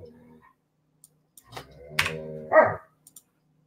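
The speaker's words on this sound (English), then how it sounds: "You hear the dog and the cat fighting." A brief, noisy scuffle between a dog and a cat: growling and snarling build up, then a sharp yowl, close by, followed by a few faint clicks.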